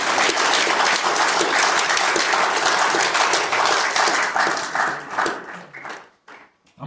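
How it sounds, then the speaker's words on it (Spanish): Church congregation applauding during a sermon, a loud, dense burst of clapping that holds steady for several seconds, then thins into scattered claps and fades out. "Denle un aplauso al Señor por eso."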